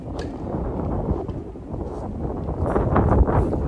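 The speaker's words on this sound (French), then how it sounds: "Il y a pas mal de vent." Wind blowing outdoors at a tennis court on a gusty day, a steady broadband rush with low buffeting that strengthens toward the end, heard alone without talk.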